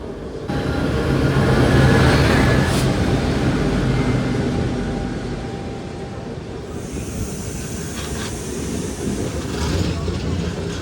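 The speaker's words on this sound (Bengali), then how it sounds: "বন্ধুরা এটা আসছে জাসিডি এসএমভিটি এক্সপ্রেস, জাসিডি থেকে এসএমভিটি ব্যাঙ্গালোর এক্সপ্রেস।" Jasidih–SMVT Bengaluru Express pulling into a station, a broad steady rumble with hiss that swells early and eases, carrying on throughout with brief higher whistling tones over it.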